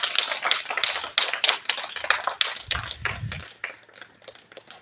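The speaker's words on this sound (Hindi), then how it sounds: "इनके लिए बहुत तालियां जी, इन बच्चों के लिए" An audience claps for schoolchildren of Azeem Cadet School after their speeches in a speech competition: a dense, steady patter of many hands that continues throughout with no voices.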